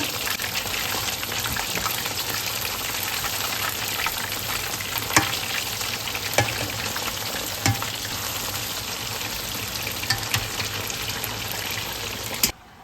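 Chicken pieces cook in a large 20-litre pot for chicken fry-piece biryani, a constant loud bubbling sizzle heard up close with a few sharp clicks and knocks near the end, no talking.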